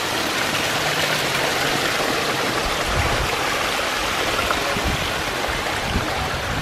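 A small waterfall spills steadily into a turtle pond, producing a continuous broadband rushing of water at moderate level with no talk over it.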